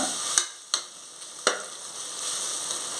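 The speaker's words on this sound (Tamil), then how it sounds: "இஞ்சி பூண்டு வாசனை போகிற வரைக்கும் நல்லா வதக்கிடுங்க" Ginger garlic paste and green chilli sauté in hot oil for dum biryani, giving a continuous bright sizzle punctuated by three crisp spatula taps against the pan.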